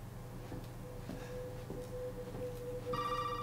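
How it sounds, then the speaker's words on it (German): A telephone rings with a bright electronic tone near the end, heard over a low droning background hum inside the horror video game Resident Evil 7. "Telefon."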